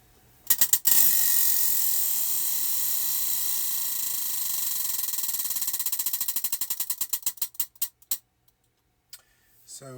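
A prize wheel spins for a crochet beanie stitch draw, its rapid ratcheting clicks steady at first, then spacing out and slowing to a final few ticks as it stops.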